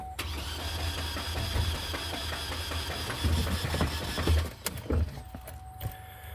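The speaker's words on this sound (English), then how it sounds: "So it's a crank no start." A 2010 Chevy Colorado engine with a suspected broken camshaft cranks steadily without catching, the starter churning in a continuous low rumble with a few heavier surges before it drops off near the end.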